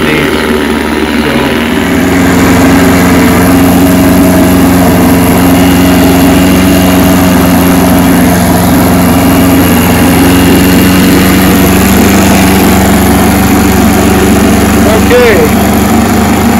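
An outboard boat motor running on an air box idles steadily and close, a continuous low droning rumble with a slight uneven, surging quality, under a faint background hiss.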